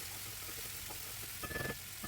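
Raw chicken sizzles in a pan while browning for Gilani sir ghalieh with soaked split peas, a steady crackling fry with a brief louder flare of spattering near the end and no talk.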